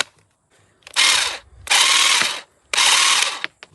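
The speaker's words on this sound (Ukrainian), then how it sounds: "Ніфіга собі гілку на 8 мм зможе обрізати." Sturmax GTM3720CR cordless hedge trimmer working through an 8 mm branch: three loud bursts of rattling reciprocating-blade noise, each about half a second to a second long, separated by short quiet gaps, close and with no talk.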